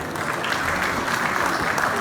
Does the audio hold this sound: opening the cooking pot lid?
no